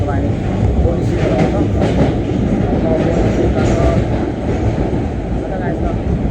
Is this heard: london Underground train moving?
yes